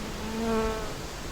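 Honeybees shaken inside a jar, giving a brief agitated buzzing whine that rises and fades over about a second, close and fairly faint.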